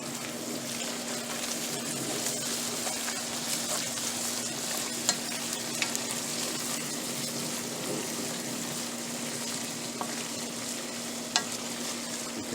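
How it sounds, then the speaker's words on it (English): Potatoes with chives, butter and bacon stirred in a hot pan, giving a steady close sizzle of frying with scraping and a few sharp clicks from the utensil, running continuously with no talking. "Now I'm going to stir that up."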